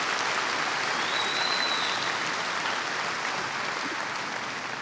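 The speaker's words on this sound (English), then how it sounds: "I'd like to give them a round of applause for these extracurricular things." Steady, dense applause from a large audience at a high school graduation ceremony fills the whole stretch at an even level, with no one speaking.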